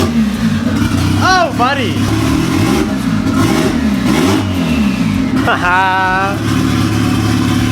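A repaired Honda Civic EG engine revs hard several times, loud and close, while people cheer and talk excitedly over it.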